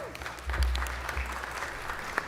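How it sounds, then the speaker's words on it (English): Audience at a Los Angeles city council meeting applauding with dense, steady clapping that fills the room briefly. "let's give a round of applause"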